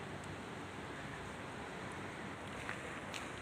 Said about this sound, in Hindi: बड़ा प्यारा मौसम है, ठंडी ठंडी हवा चल रही है